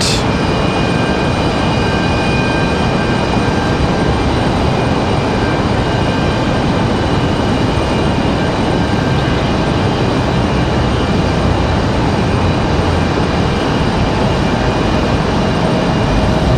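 An airliner passing at Raleigh Durham airport, a loud, steady broadband jet roar with a faint high whine, sustained without letup for the whole stretch.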